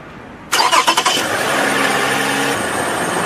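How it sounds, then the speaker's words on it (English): A car engine cranks during a battery tester's cranking test, a few rapid rhythmic turns of the starter before it catches and settles into a steady, loud idle. "and it says start engine"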